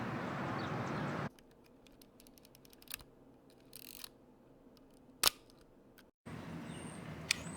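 A Pentax 17 film camera with a fisheye lens, loaded with Kodak Tri-X, takes a photo on a town walk. A few sharp, close shutter and advance clicks sound over near-silence, with outdoor street noise before and after.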